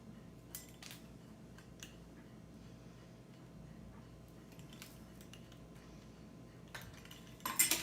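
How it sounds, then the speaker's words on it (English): A pizza cutter rolls through crescent roll dough along its perforations, giving faint, scattered light clicks and ticks against a quiet background, with a slightly louder clatter at the very end. "I'm going to use a pizza cutter."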